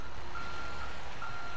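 A garbage truck reversing in the video game Grand Theft Auto V, steady evenly spaced electronic backup beeps over a constant engine rumble, clear and continuous, no talking.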